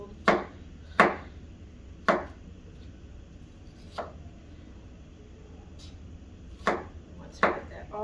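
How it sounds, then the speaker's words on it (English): A knife chops through marinated tofu on a cutting board, with six or seven sharp, separate thuds at an uneven pace, close and clear over a quiet background. "you just kind of give it a rough chop"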